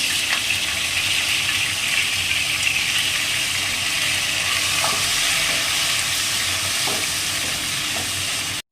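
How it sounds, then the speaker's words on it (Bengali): Giant freshwater prawns fry one by one in hot oil for a prawn malai curry, producing a loud, steady close-up sizzle and spatter that carries on unbroken, with no talking. "তেলটা গরম হয়ে গেছে এবারে মাছগুলো একে একে ভেজে নেব"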